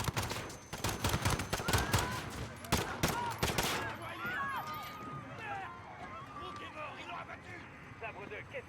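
Bursts of automatic gunfire in Call of Duty Modern Warfare, a cluster of loud sharp shots in the first four seconds, then fading into a busy background with voices talking.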